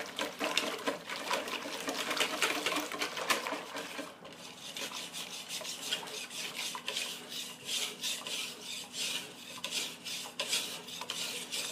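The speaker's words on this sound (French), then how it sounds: "on va bien mélanger pour que ça soit bien homogène" Crepe batter flavored with vanilla is whisked firmly in a bowl, producing continuous rapid scraping and swishing strokes with a steady rhythm, fairly close and moderately loud, with no talking.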